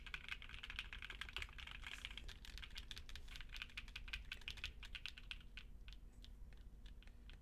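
Dense, rapid keystrokes on a custom mechanical keyboard, a Melonbred Pegasus build, clattering steadily and close up with no talking, the pace loosening toward the end into scattered individual key clicks.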